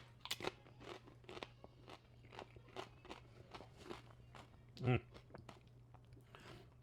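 Celery sticks, carrot sticks and oil-free air-fried tortilla chips dipped in a dairy-free buffalo bean dip being eaten: close, irregular crunching and chewing bites, one louder crunch midway, under a steady low hum.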